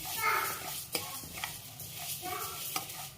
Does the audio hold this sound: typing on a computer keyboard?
no